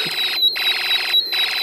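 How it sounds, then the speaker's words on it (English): A shrill electronic tone from an alarm IC in an Elenco Snap Circuits kit pulses on and off in a steady rhythm, loud and close, with brief gaps between pulses. "The pulsing is coming from the alarm IC."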